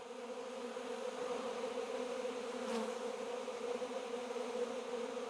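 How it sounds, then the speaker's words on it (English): Bees buzz inside a hive, a dense, steady hum that drones evenly throughout without a break, close and moderately quiet, with no voices. "There's a lot of bees in there."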